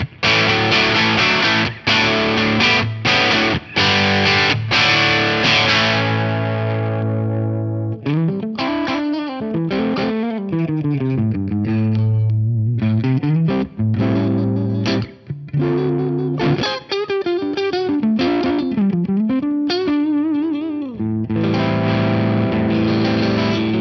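Heavily distorted electric guitar through an amp module, mids cranked, bass down, gain up, chugs dense power chords, then shifts to gritty single-note riffs and bends, loud and sustained with no talking.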